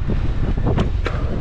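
Strong coastal wind on the road to Yalta, Crimea, in February buffets the microphone in heavy, low rumbling gusts, loud and close, with no voices.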